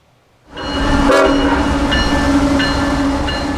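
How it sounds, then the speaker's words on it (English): A freight train rumbles steadily past at close range at dawn, a loud continuous roar with a brief sharp squeal near the start and faint clanking throughout. "The crack of dawn on Saturday morning was greeted with the sounds of train I-144."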